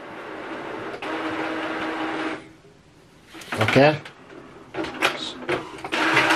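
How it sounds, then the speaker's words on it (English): An HP DeskJet 3764 inkjet printer whirs and clatters mechanically as it prints, with a pause and then more feeding noises. A person speaks briefly between the printing sounds. "you should be able to print from this printer"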